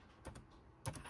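Keys tapped on a computer keyboard while entering a calibration value for a Creality CR-10 V3 3D printer, two small clusters of quiet clicks separated by a pause.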